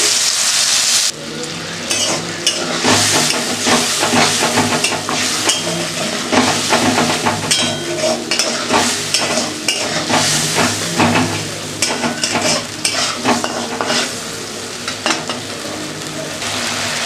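Spice paste and water hit a hot pan of browned onions for a boal fish curry, bursting into loud, continuous sizzling with occasional stirring scrapes, close and steady throughout.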